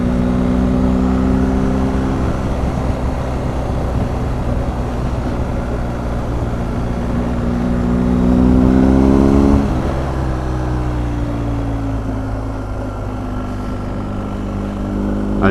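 A BMW R1250 GS Adventure TE Triple Black Edition riding over a bumpy road, its engine a steady loud drone with a brief rise in pitch and volume midway, then settling again, heard close without talk.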